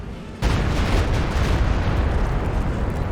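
A Super Barrage artillery strike in Company of Heroes 2 breaks in suddenly and keeps rumbling as a dense, loud, continuous roar of overlapping explosions.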